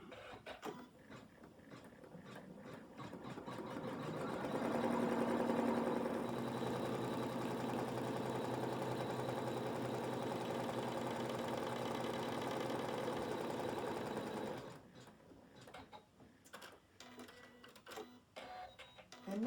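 A large embroidery sewing machine stitches an outline on a big hoop, its rapid, steady mechanical whirr rising and holding for about ten seconds before stopping, followed by quieter handling clicks.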